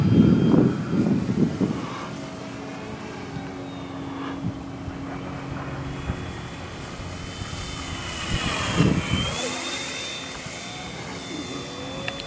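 A radio-controlled model trainer airplane makes a flyby, its small engine whining steadily as it approaches and passes, with a clear pitch shift near the end, mid-distance and loud against outdoor quiet.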